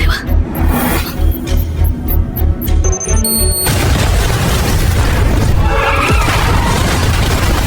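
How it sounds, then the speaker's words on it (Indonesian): A deep, loud bomb explosion booms after a stretch of rhythmic pulsing in a film, followed by a sustained roaring rumble and debris-like crackle as a monument collapses. "di sana ternyata juga ada bom yang sudah terpasang dan kemudian meledak"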